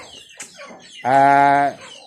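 A Thai fighting rooster gives a short, harmonically rich, sustained call lasting about half a second, close and loud, preceded by a few soft rustling sounds.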